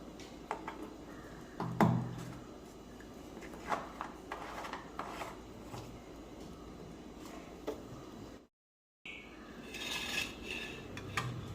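A spoon stirring black seeds into coconut oil in a bowl gives light metallic scrapes and clinks at irregular intervals, close and fairly quiet, with a short gap of silence near the end.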